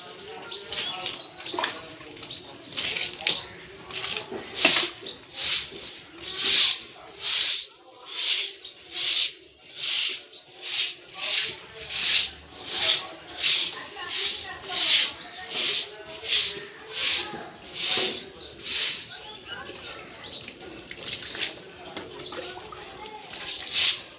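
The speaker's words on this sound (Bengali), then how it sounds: "বাইরেটা একটু জল দিয়ে ধুয়ে দিলাম" Water is splashed and swept across an outdoor area to wash away paint stains, making a steady, rhythmic series of loud hissing swishes, close by, one after another.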